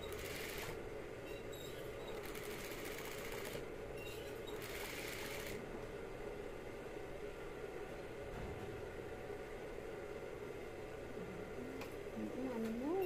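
Sewing machine stitching a tote bag, a low continuous motor hum with a few short louder bursts, faint and steady under people talking.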